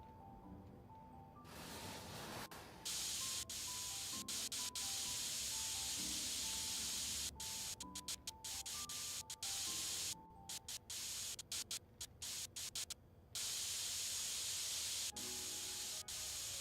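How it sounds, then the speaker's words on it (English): Spray-paint hiss from PC parts being coated in PC Building Simulator 2, loud broadband bursts of varied length with quiet gaps, soft music notes playing underneath. "so we'll spray everything but the glass."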